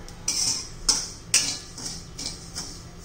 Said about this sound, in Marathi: भगर आपण पहिले ना मंद गॅसवर भाजून घ्यायची. एकसारखा हलवत राहायचे.